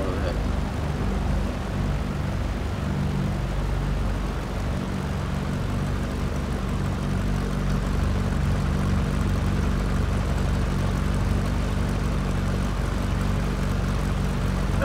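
A Cessna propeller plane in the X-Plane 11 flight simulator taxis toward parking, its engine droning loud and steady throughout with a constant low hum and no gaps.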